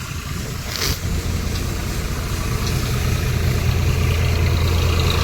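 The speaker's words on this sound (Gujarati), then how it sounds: "આ તો મિત్રો બહુ મોટું ટ્રેક્ટર છે" A large farm tractor, a 551 model, runs nearby in a field while a trailer is loaded, its engine a steady low idling rumble that grows slightly louder and heavier toward the end, with no speech.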